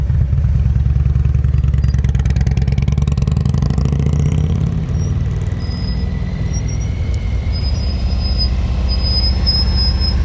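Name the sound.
motorcycle slow-speed riding practice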